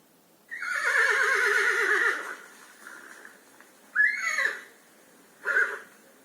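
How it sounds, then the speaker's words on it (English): A farm horse neighs loudly, starting with one long quavering whinny, then after a pause two shorter, sharper whinnies, each standing alone with quiet between them. "It's a horse."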